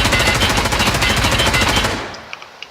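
Rapid automatic gunfire with heavy recoil in the shooter game SPT Tarkov, a loud sustained burst of evenly spaced shots that stops abruptly, followed by a few faint clicks and shell clinks.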